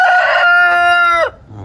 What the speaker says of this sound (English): Shouting, letting everyone know you're the cockerel.